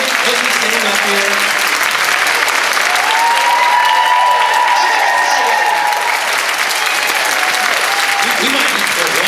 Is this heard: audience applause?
yes